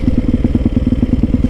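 Motorcycle engine chugging in a steady rapid pulse as the bike rides over a rough rocky road, loud and close, with a faint rattling clatter mixed in and no voices.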